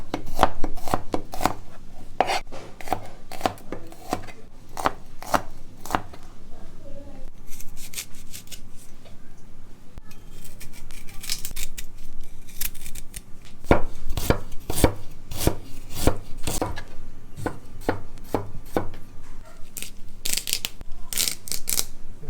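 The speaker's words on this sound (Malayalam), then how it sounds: "നമുക്ക് വേണ്ട ഇൻഗ്രീഡിയൻസ് നമുക്ക് അരിഞ്ഞെടുക്കാം. അതായത് ഇഞ്ചിയും വെളുത്തുള്ളിയും പച്ചമുളകും." Knife chopping ginger, garlic and green chillies on a board for a Kerala fish curry, sharp rapid taps in quick bursts separated by short pauses, close and crisp, with occasional speech in the background.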